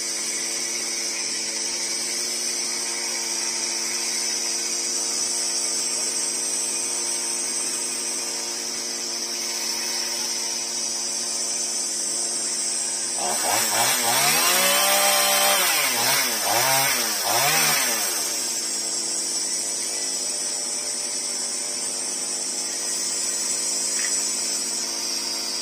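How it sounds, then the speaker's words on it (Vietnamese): A chainsaw felling a tree beside a house, droning steadily throughout, with a louder revving burst midway as the saw bites into the wood. "Nắm giật cái cưa ra."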